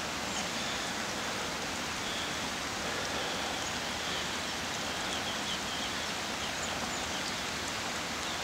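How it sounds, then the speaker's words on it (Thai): Steady rain falls during a mountain trek on the trail to Yubeng, a dense, even hiss of drops spread across the whole clip, with no one talking. "ฝนตกด้วย"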